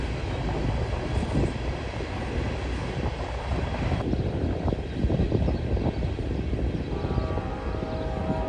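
Freight train led by two NS AC44C6M locomotives, rebuilt from Dash 9-44CWs, rolling past on a cold day: a steady, broad rumble that holds throughout, with rail noise and a faint tonal whine toward the end.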